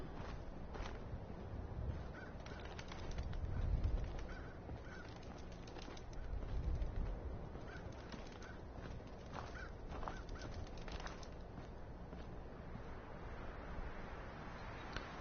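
Geese honk and birds call in the wasteland of the video game Fallout 4, scattered cries at moderate distance over a steady ambient bed, with occasional footsteps and swells of wind-like noise.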